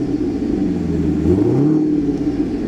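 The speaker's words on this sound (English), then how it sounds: "just rev it a little bit" A Chevrolet Corvette engine on stock throttle settings gives a single short rev, rising in pitch and falling back to idle, heard up close with no talking.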